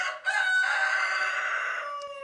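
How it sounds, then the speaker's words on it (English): A rooster crows once in a long, loud, sustained call close by outdoors, with no talk over it. "Rooster says it's time to go,"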